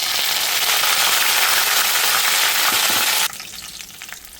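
Mustard seeds, cumin, three dried chillies and curry leaves sizzle loudly in hot oil for a Telugu chutney tempering, a dense close crackling hiss that drops abruptly to a quieter simmer near the end.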